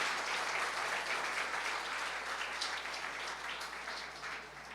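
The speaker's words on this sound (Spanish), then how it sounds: "Dale un fuerte aplauso al Señor." A church congregation applauds steadily during a Spanish-language sermon, a dense wash of many hands clapping that stays loud and even throughout, with no talking on top.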